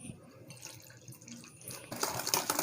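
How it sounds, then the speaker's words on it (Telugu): Water is poured into a bowl of sugar powder and milk powder for an eggless milk cake batter, with a soft splash that builds into a steady, close pour over the final second. "మనం 1 కప్ వాటర్ని వేసుకోవాలి."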